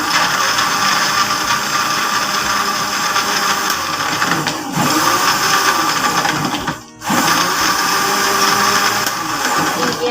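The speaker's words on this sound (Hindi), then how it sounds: "ये इसमें आइस डाल के इसको ग्राइंड कर लें।" A blender grinds a date shake made with milk and ice, a loud steady whir running nearly unbroken for ten seconds with one brief dip partway through.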